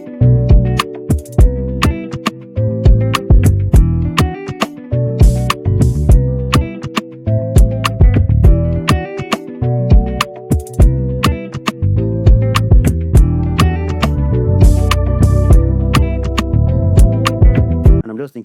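Afro fusion guitar beat built in FL Studio: plucked guitar chords over punchy kick and percussion in a steady, bouncy groove, loud and continuous with no voices.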